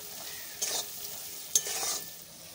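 A spoon scrapes through chili powder and other spices in a pan, with two short stirring strokes over a faint, quiet sizzle.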